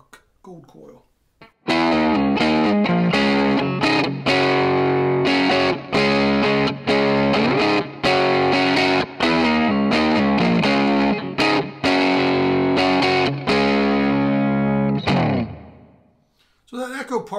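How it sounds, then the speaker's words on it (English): Novo Serus Athena electric guitar played through its neck Echo Park gold coil pickup, strummed chords and picked notes ringing out loud and steady with a slightly driven, chiming tone, alone for about fifteen seconds. "So that Echo Park gold coil, even though it's a neck pickup, it's still got some chime to it, some clarity."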